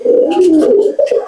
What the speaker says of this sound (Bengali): 2 দশকের পায়রা।